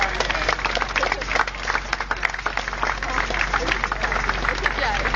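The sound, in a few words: crowd applauding fire training team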